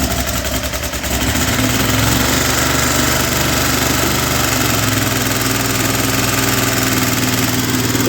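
A Ferris ProCut 61 mower engine runs steadily and loudly throughout, a continuous mid-pitched idle with a slight rough knock, kept running to purge air from the hydraulics.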